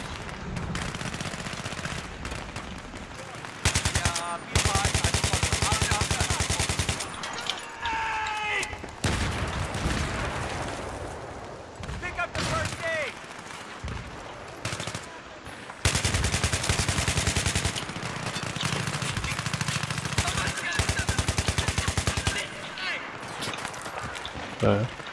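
Bursts of AK-74M assault rifle fire from Battlefield 3 in a team deathmatch on the Canals map, several loud sustained volleys separated by quieter gaps, with a voice talking between them.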